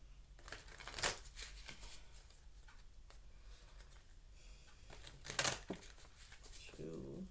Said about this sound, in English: so let's shake up these Heart and Hands Tarot deck here